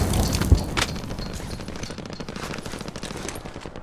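Gunfire in Call of Duty: Modern Warfare, a sharp loud shot followed by bursts of rapid automatic fire and scattered distant cracks over a continuous game rumble, with no talk.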